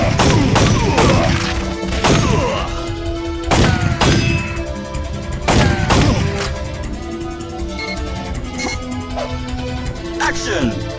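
Sharp, loud shots from a Guncon lightgun in the PlayStation game Time Crisis crack out in irregular bursts, with impacts and game effects between them while someone talks over the action.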